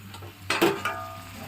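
Crab curry with chunks of white brinjal cooking in a pan, a soft sizzle under a few brief utensil clinks and scrapes, fairly close and quiet.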